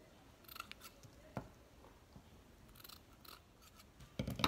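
Scissors snip through excess macrame cord on a finished coaster, several quiet close cuts spread across a few seconds in an otherwise still room.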